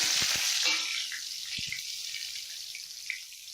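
Dried red chillies and bay leaves dropped into hot oil give a loud, bright sizzling hiss that settles into a softer, steady fry with small scattered crackles.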